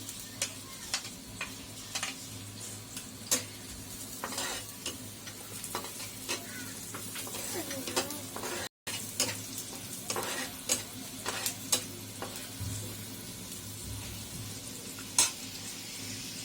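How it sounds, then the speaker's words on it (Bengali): Chopped onion and garlic fry in oil while a spatula stirs and scrapes the pan, the base of a dried loitta fish bhuna. A close, steady sizzle runs throughout, broken by sharp clicking strokes, with no talking. "পেঁয়াজ এবং রসুন লালচে না হওয়া পর্যন্ত ভেজে ভাজতে থাকবো"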